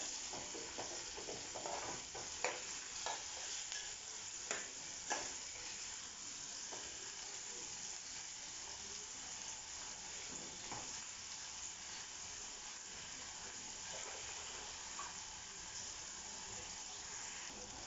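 Finely chopped ingredients get stirred and mixed in hot oil for potato and pea curry, a soft continuous sizzle broken by repeated scraping strokes of a spoon against the pan.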